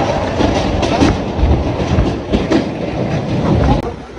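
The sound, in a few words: train moving at station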